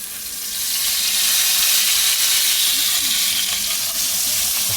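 Steak searing over high heat in a pan on a camp stove, a steady loud broadband sizzle that swells slightly after the first half second and holds even throughout.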